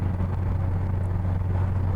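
Steady low engine drone and road rumble from inside a car cruising along Staffordshire country lanes in winter, constant and fairly loud with no talk.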